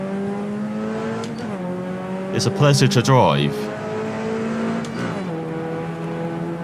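Puma P052 race car with a tuned engine and a five-speed gearbox, driven at Ibarra in rFactor 2, holding a steady loud drone with one sharp rising rev burst at mid-clip and a shift, while someone talks over it.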